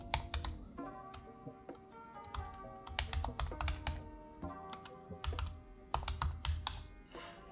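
Rapid typing on a computer keyboard entering a terminal command on a Mac, with irregular bursts of crisp close key clicks and brief pauses between them.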